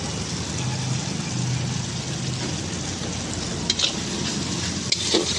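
Spice paste with green chilli paste is lightly sautéed in a pan, a steady loud sizzle and hiss with occasional stirring scrapes and clinks, and no talking.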